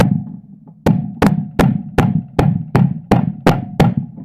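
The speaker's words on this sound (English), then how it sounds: "give it a couple of taps, pull the seal back out again" Nine sharp, evenly spaced metallic hammer taps on a Range Rover propshaft yoke clamped in a vice, each ringing briefly, loud and close, with no talking.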